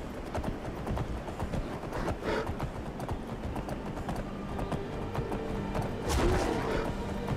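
Rhythmic clip-clop of horse hooves at a steady gallop while riding in the video game Skyrim, continuous and fairly close, with some clatter over ambient game sound.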